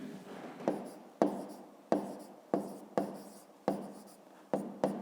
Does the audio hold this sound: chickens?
no